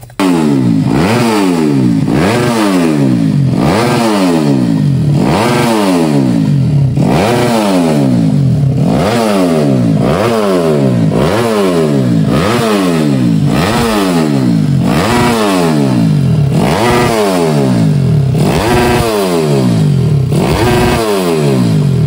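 A Yamaha Jupiter Z motorcycle engine revs up and down repeatedly in a steady rhythm, loud and close, each rise and fall running about a second and a half.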